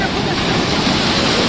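Powerful waves of water at Siddheshwar Dam, heard as a loud, dense rushing roar that stays constant and close throughout a brief stretch, masking any other sound.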